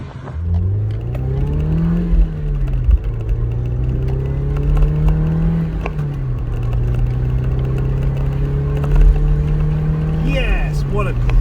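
MG TF 135 sports car engine droning steadily while driving, pitch climbing and dropping with gear changes, heard from inside the cabin under someone talking, with occasional road knocks.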